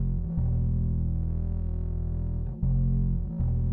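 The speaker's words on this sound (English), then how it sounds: "for one of them I threw on a guitar stomp with some fuzz" Bass line in a beat, run through a guitar stomp pedal with fuzz distortion. Thick, buzzy sustained notes drone loudly, broken by two brief gaps where the note changes.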